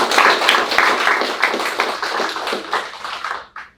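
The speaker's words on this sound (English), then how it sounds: "One more round of applause for our 2021 class" An audience claps for the 2021 student class at a startup demo day summit, dense loud applause that thins toward the end and stops with a final few claps, no speech.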